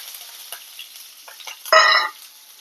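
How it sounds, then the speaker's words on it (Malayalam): Mustard seeds popping in hot oil with cumin in the pan, quick faint crackles followed by a short louder burst of sizzle, close by. "കടുക് പൊട്ടുണ്ട്"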